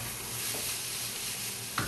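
Quinoa-lentil pilaf ingredients stirred in a hot pan, a soft continuous sizzle with light scraping from the spoon.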